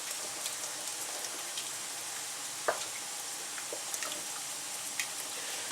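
Cream sauce for chopped steak with mushrooms simmers and thickens in a pan, giving a quiet, steady bubbling hiss with a few soft pops and clicks.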